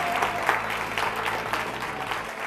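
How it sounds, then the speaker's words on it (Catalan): Audience applause at a Catalan school quiz show, steady moderate clapping from a crowd, continuous for a couple of seconds with no voices over it. "Un aplaudiment per ells, si us plau."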